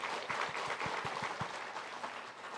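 Church congregation at a Sunday service applauding together, a soft, distant wash of clapping lasting a few seconds with a few louder claps standing out early on.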